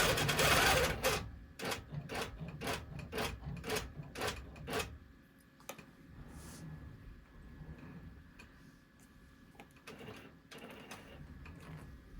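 An embroidery machine stitches a placement line in yellow thread for the top of a flower, with a run of rapid, evenly spaced mechanical stitch bursts that thin out into quieter, sparser clicks and whirring.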